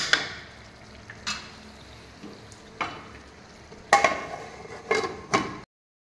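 Onions frying in a pan with salt sprinkled over them give a steady low sizzle, broken by several sharp stirring scrapes and clinks, with the loudest strokes near the end.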